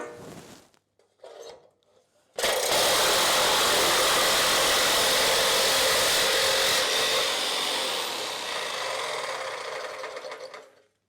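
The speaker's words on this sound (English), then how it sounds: "get my jigsaw blade in and work my way around" Jigsaw fitted with its blade cutting four holes into a metal billy can, a loud steady buzzing rasp running continuously for about nine seconds after a few brief starts.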